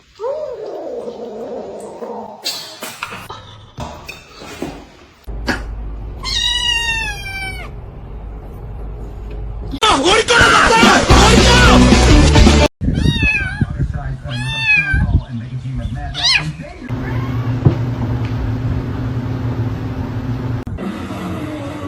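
A kitten meows and cries in repeated rising, wavering calls, loud and close, mixed with people talking and bursts of other noise.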